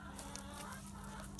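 Chickens on a backyard farm cluck softly and steadily, a faint, continuous fowl chatter with a few brief louder calls and no talking.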